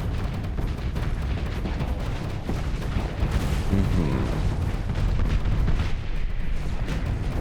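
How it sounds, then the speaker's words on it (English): Incoming missile salvo striking ships in the space combat video game Starsector, a continuous rumble of overlapping explosions and booming impacts, dense and loud throughout, with a voice talking over it. "salvo of missiles just coming in from the left"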